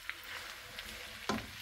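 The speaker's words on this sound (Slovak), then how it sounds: "Takže tak pomaly orestujeme" A pan of food sautéing at low volume, giving a soft, steady sizzle with a brief scrape of stirring near the end.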